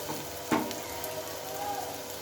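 Puffed rice pakora frying in a small amount of oil, giving a steady soft sizzle with a brief louder splash or stir at about half a second.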